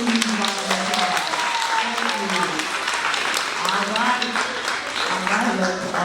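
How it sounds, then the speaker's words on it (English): An audience at an end-of-year ceremony claps for the staff, a continuous round of applause with voices and some speech-like tones running underneath. "So let's give our staff another huge round of applause."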